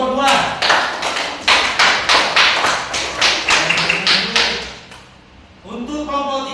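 Classroom applause for a student group, a burst of many hands clapping in a rhythmic patter that fades out, then people begin talking.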